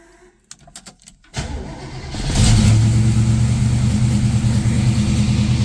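A 1969 Camaro Z/28 with its original DZ 302 V8 cold-starts on a 26-degree Wisconsin day: a few clicks, a cranking burst, then the engine catches and settles into a loud, steady, rumbling fast idle.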